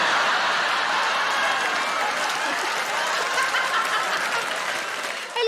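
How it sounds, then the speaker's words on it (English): A stand-up comedy audience applauds and cheers loudly, a dense, continuous roar of clapping with a woman's cheer rising through it, sustained throughout and dipping only briefly near the end. "I love that there's a lady cheering"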